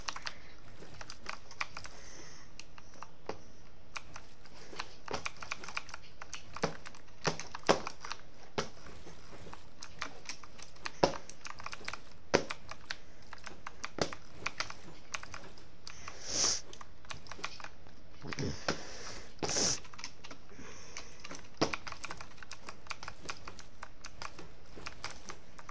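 Keystrokes on a computer keyboard click steadily and unevenly for a long stretch, close and fairly quiet, with occasional louder taps and no talking.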